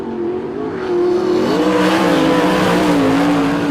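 Race car from Central Motor Speedway, car number 16, in a War Of The Wings round at Invercargill, roaring loud and close with a steady high engine note that climbs and wavers under sustained full throttle.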